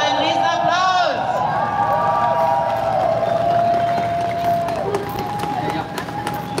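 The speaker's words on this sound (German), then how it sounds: "Habt nochmal einen riesen Applaus!" A crowd at a street demonstration claps and cheers in a dense, continuous roar, with whistles and a loud voice over the noise at the start, easing slightly toward the end.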